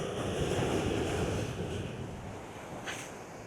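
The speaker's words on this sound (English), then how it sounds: "The waves lapping." Sea waves wash in at the coast near L'Estartit with a steady, broad hiss that swells and fades a little under wind, with no voices.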